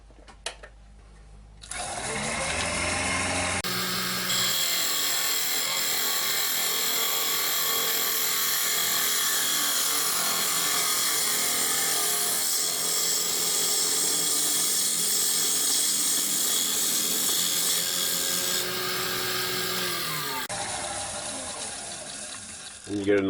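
A woodturning gouge cuts an ash bowl spinning on a lathe, a steady close whirring and shaving hiss that starts abruptly, holds for about seventeen seconds, then stops.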